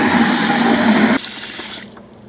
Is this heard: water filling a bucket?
yes